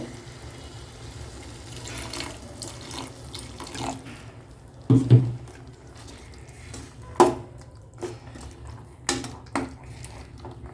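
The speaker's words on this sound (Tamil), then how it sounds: "நமக்கு தேவையான அளவு தண்ணி ஊற்றிக்கலாம் கொஞ்சம் கொதிக்கிறதுக்கு" Water runs and splashes into a cooking pan, with a steady trickle broken by a few louder splashes and clunks of the vessel.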